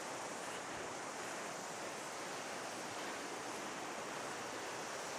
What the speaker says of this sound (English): I can hear the river down below